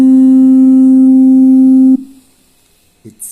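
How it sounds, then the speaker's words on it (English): A pure sine wave tone from an MPC sampler sounds loud and steady for about two seconds, then cuts off into near silence, followed by a brief faint noise. "The sine wave sound like this."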